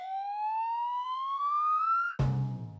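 A single rising fire engine siren tone sweeps slowly upward, alone and clear, then cuts off abruptly into a short low rumble.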